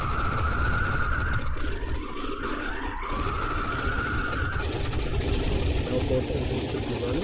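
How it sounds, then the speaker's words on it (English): Twin piston engines of a Douglas DC-3 idling on the ground in the FlightGear flight simulator, a steady low droning rumble with a faint wavering whine over it, continuous and even throughout. "Both engines should be running."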